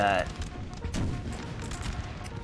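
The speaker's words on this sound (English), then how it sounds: "artillery still firing" Cannon fire in the video game Napoleonic Total War 3 sounds as a few dull, distant booms and thuds in a large battle, low in level and partly under someone talking.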